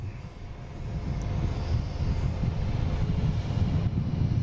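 An airliner at Boston Logan International Airport gives off a broad, steady jet roar that swells gradually and stays loud and continuous, mixed with wind buffeting the microphone, with no voices.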